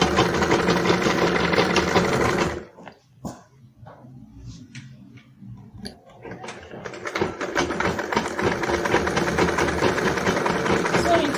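A sewing machine stitches iro and buba Yoruba attire in fast, loud runs close by, pausing for a few seconds of quieter handling before starting up again and running steadily to the end.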